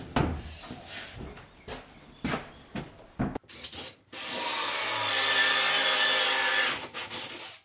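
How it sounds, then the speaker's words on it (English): A power drill bores through a wardrobe door after a few scraping and knocking handling sounds, then runs steadily and loudly for several seconds before winding down into more handling noise. "it's a good idea to drill from both sides"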